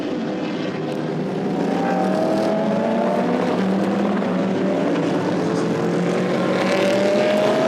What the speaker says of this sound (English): There's the Oman Racing Aston Martin.